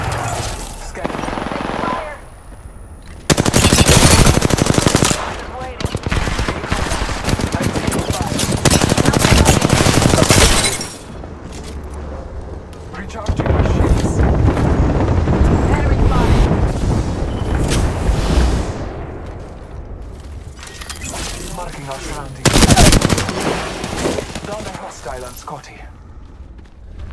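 Loud bursts of automatic gunfire in a video game come in several heavy waves separated by quieter stretches, with rapid rattling shots, booms and game voices mixed in.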